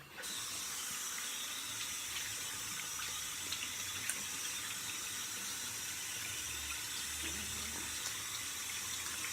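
A tap running steadily into a sink while washing off after a shave, a constant even rush of water throughout at low to moderate level, no speech.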